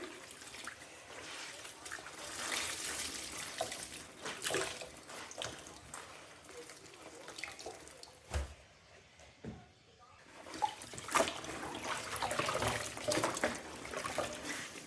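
Water trickles and pours quietly into a basin in a steady stream, for washing a suit by hand at home, with faint voices talking in the background and a brief pause near the middle.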